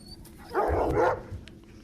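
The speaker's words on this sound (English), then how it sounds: "Following tape, field observation of terriers." Enlarged terriers bark in an open field, a burst of two or three loud, close barks with a few softer yips after, no talk over them.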